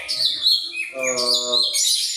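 Chirping and whistling calls of a cucak ijo songbird at a bird farm, a lively run of bright, varied phrases that fills the whole clip, close and fairly loud.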